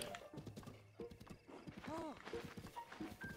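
A horse in The Legend of Zelda: Breath of the Wild clip-clops along at a steady pace and lets out a clear whinny, with game music underneath.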